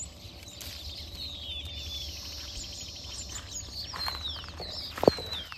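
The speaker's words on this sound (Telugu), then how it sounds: "ఇది కూడా పిచ్చుకల సౌండ్ చూడమే," Sparrows chirp in a tamarind tree in farmland, a busy chorus of quick high twitters at moderate distance, with a wing flutter and a brief sharp knock near the end.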